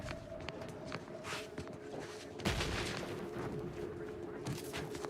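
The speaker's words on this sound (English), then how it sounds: "Mortar fire! Move!" Mortar fire in the video game The Outer Worlds 2: a single sudden, fairly distant blast partway through, with footsteps and other game sounds before and after it.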